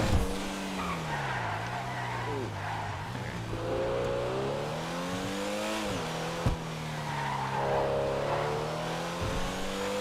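Pfister Comet S2 sports car in GTA 5 Online driven fast along a cleared road, engine note rising and falling through gear changes with tire squeals and skids, loud and continuous with no talking.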